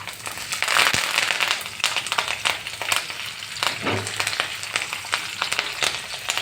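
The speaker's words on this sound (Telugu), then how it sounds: "ఇప్పుడు తాలింపు చిటపట్లాడుతుంది" Mustard seeds pop and crackle in hot oil for a tempering, rapid irregular snaps over a steady sizzling hiss, close by.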